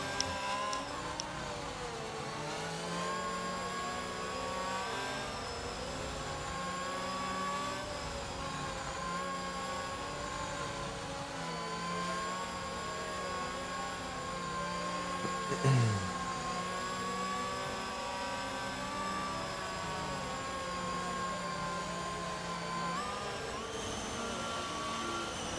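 Formula 1 cars in the F1 22 game weaving to warm tyres behind the safety car, a steady whining engine drone with small revving swells, fairly quiet and continuous.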